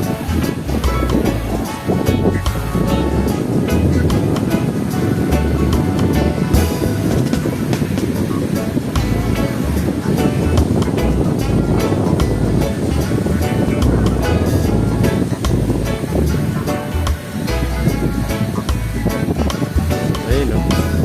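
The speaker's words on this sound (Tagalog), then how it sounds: "Lakas ng hangin." Strong wind at a beach in Boracay, a loud continuous roaring buffet across the whole stretch, likely mixed with surf.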